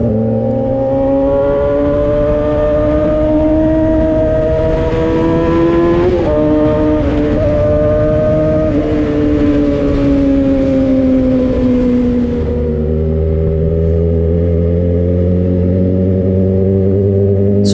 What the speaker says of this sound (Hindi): अब मैं दिखाता हूँ सुपर बाइक चलाते कैसे हैं।